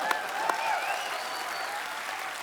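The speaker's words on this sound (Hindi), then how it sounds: "जोरदार तालियां" Steady, enthusiastic audience applause fills the whole stretch, a dense wash of clapping with no voices rising above it.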